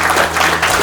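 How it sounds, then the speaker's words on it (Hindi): An audience at a Kashmir apple orchard farming event in Sopore applauds to welcome a guest, a brief, loud burst of crowd clapping blurred into a continuous wash. "थोड़ा बहुत तालियों से स्वागत करिए।"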